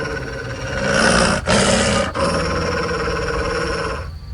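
A dog in The Witcher video game growls in a loud, sustained, rough snarl close up, broken by two brief pauses, with no speech.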